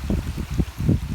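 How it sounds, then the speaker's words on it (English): Meltwater pours down the rocky flanks of Snowdon in broad sheets. It makes a close, low, churning rush that pulses in uneven surges over a brief moment, with no voices. "Sometimes, rather than in small streams, the water comes down the mountain in great sheets"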